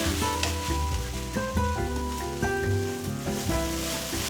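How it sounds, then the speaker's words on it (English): Ingredients for Thai pineapple fried rice stir-frying together, a close, steady sizzle with scraping and tossing strokes of stirring throughout. "Fry them all together."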